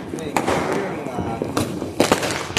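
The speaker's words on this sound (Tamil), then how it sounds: "இந்த மாதிரி எல்லாம் வெடி பரவாயில்லை" Neighbours' firecrackers bursting during a Diwali celebration, with several sharp cracks and pops ringing out over a steady crackling background, loud and close.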